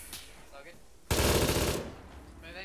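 A close, loud burst of automatic rifle fire from the military shooter ArmA 3 lasts under a second, with quieter background sounds before and after.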